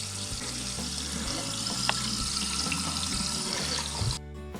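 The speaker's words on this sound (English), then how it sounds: "I'll demonstrate how this sink faucet that we use most often is severely restricted by mineral deposits that form in its aeration filter" A bathroom sink faucet with its aerator filter clogged by mineral deposits runs as a steady, close hiss of restricted flow that stops near the end.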